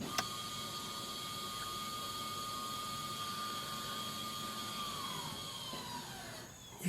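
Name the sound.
2019 Hyundai Santa Fe electronic parking brake motor turning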